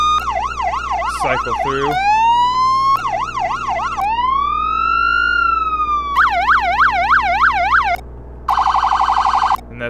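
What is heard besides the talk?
police siren in a video game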